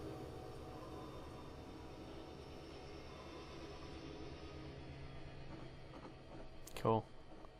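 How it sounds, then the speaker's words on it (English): An Amtrak train runs by outside on the Chicago to San Antonio route, a faint, steady low rumble and clatter that lasts throughout, with a short sharp burst near the end. "Let's see if we can get a nice pan with the train going by."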